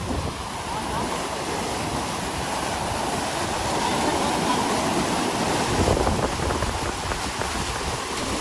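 Water released from the Doka dam rushes through a channel toward the sea, a loud, steady roar that swells slightly midway and continues without a break.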